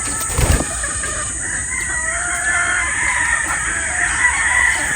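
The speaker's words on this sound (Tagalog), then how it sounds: "Yan po yung ating mga pulit" Young pullets on a game fowl farm crow and cluck steadily at close range, with one rooster crow rising above the flock's constant chatter.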